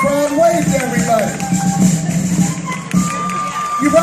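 A baseball game crowd cheering in a stadium, a broad, distant wash of voices under someone talking nearby.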